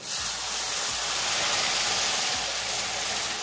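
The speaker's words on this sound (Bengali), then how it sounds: "এই সব মশলাটা ভালো করে কষে নেব" Kashmiri red chilli, coriander and cumin powders fried with a little water in a pan for lote fish jhuri, a loud, steady close hiss of sizzling with no talk.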